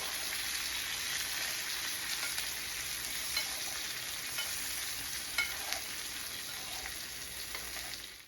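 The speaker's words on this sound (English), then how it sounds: "You want to continually baste that steak." Steady close sizzle of a steak frying in a pan as butter is spooned over it, a continuous hiss with small crackles and pops, no talking.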